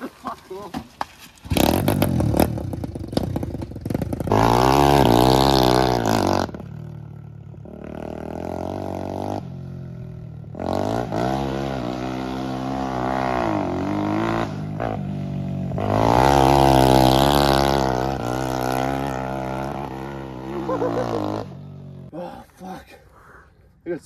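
A kids' dirt bike rides a lap on an off-season training track, its engine revving up and down in long rising and falling surges, loud and near, with short quieter gaps between runs.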